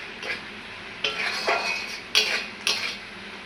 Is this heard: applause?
no